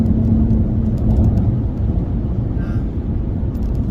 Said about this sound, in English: This truck rides really good